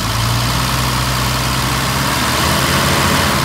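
1968 Mercedes-Benz 250SL engine running loud and close, a dense steady idle drone with a low throbbing tone, slightly building as gas is given, with no talking.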